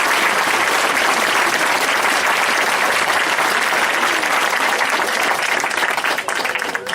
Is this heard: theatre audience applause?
yes